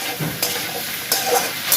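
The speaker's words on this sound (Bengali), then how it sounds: "এবার আমি এই সবজিগুলোকেও হালকা করে একটু ভাজা ভাজা করে নেব" Vegetables fry lightly in a pan, giving a soft sizzle with a few brief scrapes of stirring, close up and with no talking.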